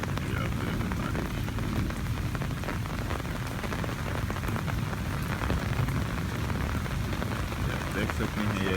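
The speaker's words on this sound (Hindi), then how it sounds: "ये आप देखें बारिश," Heavy rain pours down in a village, a dense steady hiss of drops striking surfaces that holds unbroken for the whole stretch, with no other sound standing out.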